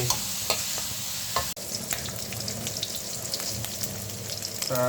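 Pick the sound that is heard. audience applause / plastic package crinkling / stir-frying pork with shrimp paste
stir-frying pork with shrimp paste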